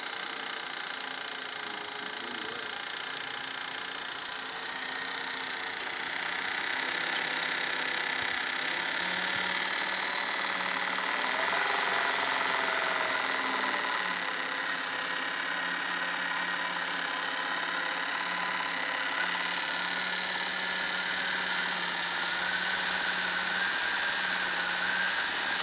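A THOR GC-1341 industrial sewing machine winds a bobbin with a continuous high, steady motor whine, close and loud, holding an even pitch with slight wavering and no talk over it.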